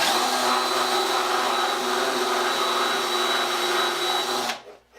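A loud, steady electric drill whine runs continuously for several seconds, close up, then cuts off abruptly.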